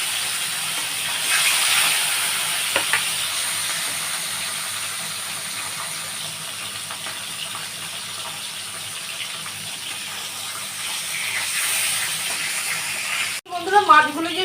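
Parshe fish fry lightly in mustard oil in a wok with a soft, steady hiss. A voice talks over it, and a brief clatter comes near the end.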